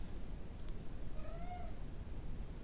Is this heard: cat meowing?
yes